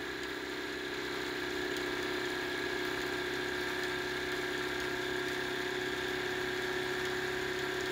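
A 3D printed pulse motor spins steadily at around 2000 RPM, giving a continuous mechanical hum with a faint whine, even and alone with no talk.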